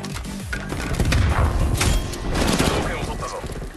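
Rapid close-range automatic gunfire from an AK-74u in Call of Duty: Black Ops Cold War, loud, dense overlapping shots and impacts in sustained bursts, with a voice talking over the shooting.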